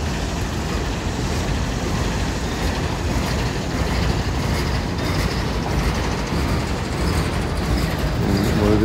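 A CSX freight train hauling autorack cars rolls past close by, a loud, steady rumble and rattle of wheels and cars that holds from start to finish with no voices.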